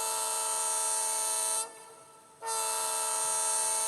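Sound from an ESU decoder in an N scale Atlas locomotive played through an 11x15 speaker: a steady tonal horn-like blast with a brief dip midway, then resuming, loud and close with no talk.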